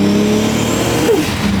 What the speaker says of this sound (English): My girlfriend driving my 700 horsepower Supra.